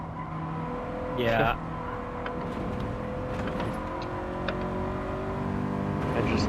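Race car in a racing video game taking a chicane, its engine a steady, fairly quiet drone with brief shifts in pitch; a voice speaks briefly over it.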